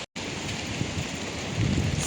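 Heavy rain pours steadily during Typhoon Noul, a dense wash of drops on surfaces with gusty rumble, continuous and fairly loud after a brief cut at the start.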